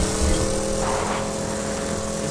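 Vehicle driven in the game Borderlands 2, a steady loud engine drone with broad rushing noise, holding constant without breaks.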